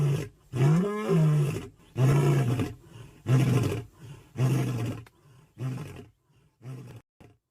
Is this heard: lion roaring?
yes